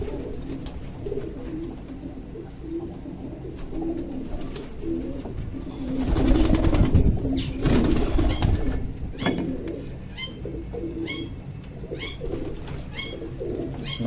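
Pigeons on a rooftop coo continuously while grain and water are put out, a close chorus of many birds with some flapping and rustling swelling midway.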